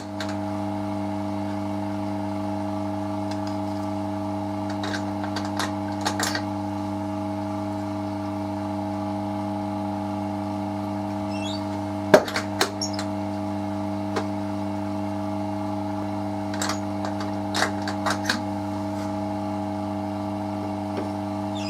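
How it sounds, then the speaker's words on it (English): A steady mechanical hum drones continuously from a running stabiliser vacuum chamber in a knifemaking workshop, with occasional small clicks and knocks scattered over it. "That's the stabiliser vacuum chamber running."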